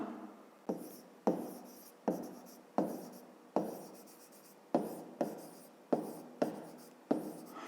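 A pen scratches across paper in about a dozen quick, evenly spaced strokes as a fifth-grade triangle problem is written out by hand, close and quiet.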